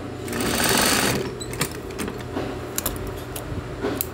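A sewing machine runs close up, stitching double-line reinforcement next to a zipper on a jumpsuit, starting with a sustained whirring burst, then slowing into short runs of rapid needle ticking with small mechanical clicks between them.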